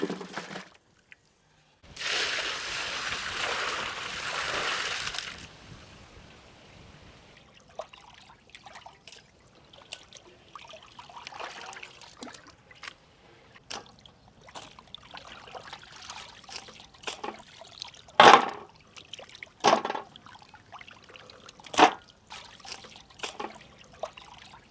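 Water from a tap runs and splashes in a kitchen sink as raw chicken is washed for yakhni pulao: a steady stream at first, then intermittent trickles, drips and wet handling sounds, fairly close.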